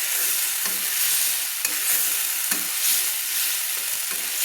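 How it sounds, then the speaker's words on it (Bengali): Fried prawns sizzle in spice paste in a pan, a loud steady hiss up close punctuated by a few sharp spatula scrapes and taps as they are stirred, no voices. "দিয়ে চিংড়ি মাছগুলোকে মশলার সঙ্গে একটু কষিয়ে নিলাম।"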